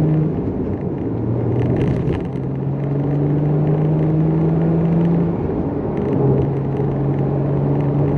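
Inside the cabin of a 981 Porsche Cayman S cruising in comfort mode, a steady low engine drone and road rumble hold at a constant level, with smooth, gradual pitch shifts as the car moves along. No voices.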